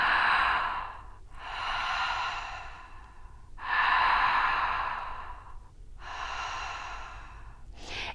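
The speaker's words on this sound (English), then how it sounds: "It's a circular breath." Conscious connected breathwork: four long, loud, close breaths follow each other with barely a pause, each a steady airy whoosh, heard alone without speech.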